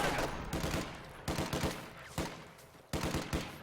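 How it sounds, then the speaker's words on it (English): MG42 machine gun in the strategy game Company of Heroes 2 firing several short, rapid bursts separated by brief pauses, loud and sharp. "He's trying to get around so he doesn't take an MG42 burst"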